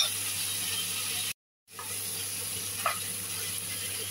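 Fried chicken wings added to a pan of golden-browned onion and garlic, a close, steady frying sizzle and hiss that cuts out briefly, then resumes with a faint stir.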